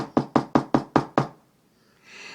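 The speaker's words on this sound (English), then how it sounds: "he knocked on the door" Six firm knocks on a door in an even, quick rhythm, close and loud, followed by silence and a faint rustle.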